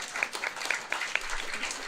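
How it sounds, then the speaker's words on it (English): Applause from an audience at a bus riders forum with mayoral candidates, a short burst of scattered, fairly light clapping heard at moderate distance. "Give yourselves a round of applause"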